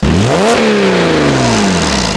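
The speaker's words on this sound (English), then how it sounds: "park the camera near the exhaust and give it a good rev" A Porsche Cayman S engine revs hard, recorded up close at the exhaust, pitch climbing sharply then sliding back down as the revs fall, loud and throaty.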